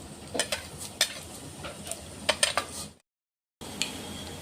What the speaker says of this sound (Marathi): तेल गरम झालेलं आहे. आपण आता जिरे टाकतोय.